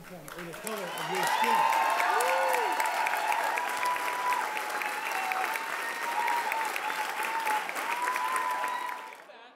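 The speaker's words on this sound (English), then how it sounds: "Reaction shots of clapping." An event crowd breaks into sustained applause, many hands clapping in a dense steady roar that rises quickly, holds for several seconds and fades near the end, with a few voices and whistles mixed in at the start.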